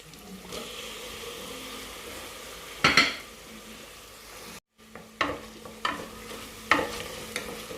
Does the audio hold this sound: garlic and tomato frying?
yes